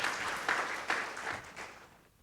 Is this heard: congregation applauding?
yes